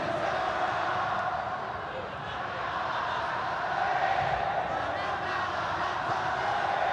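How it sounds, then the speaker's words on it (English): Stadium crowd roaring steadily at an Indonesia vs Thailand football match, a dense, continuous wash of cheering and chanting that stays loud throughout with slight swells. "You can hear the crowd."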